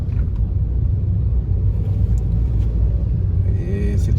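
Heavy road traffic crossing the Awe Geutah bridge at night, a steady loud low rumble of car and motor vehicle engines passing close by without a break.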